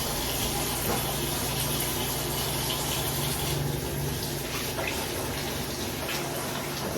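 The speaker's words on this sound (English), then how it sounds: "I gotta wash my hands." Tap water running steadily from a faucet while hands are washed underneath, a continuous close, loud splashing gush with slight shifts in tone as the flow is disturbed.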